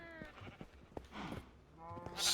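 Minecraft sheep bleat in the video game, a few quavering harmonic calls over soft game sounds, with a brief rustle between them and a brighter hiss at the end.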